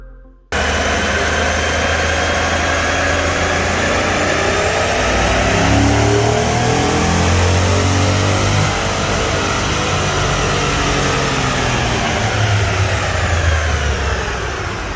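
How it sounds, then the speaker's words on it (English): A stock GMC Yukon Denali roars through a long, loud rev on a dyno, its engine note rising steadily over most of the run and then easing slightly near the end, with no voices. "So last week on Horsepower Friday, we featured Courtney's completely stock GMC Yukon Denali."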